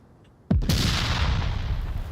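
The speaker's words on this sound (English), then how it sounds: "that was detonated a little too late" A C4 charge detonates in the VR shooter Onward with a sudden sharp blast after near silence, followed by a loud rumbling roar that lingers and slowly thins.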